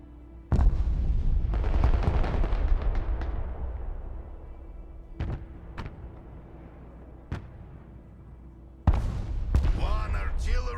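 Artillery strike in the military strategy game Broken Arrow: a heavy boom opens, then a rolling barrage of distant blasts and sharp impacts spread across several seconds, ending in a final loud crash, with brief radio-style voices between.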